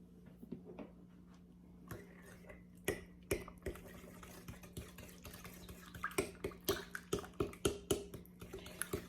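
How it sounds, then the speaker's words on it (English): A small stirrer clinks and taps against a bowl as red velvet cake batter with oil is mixed by hand, quiet scraping ticks that speed up into a steady, rhythmic clatter. "I'm just going to be stirring it with my little stirrer here before I actually use my mixer"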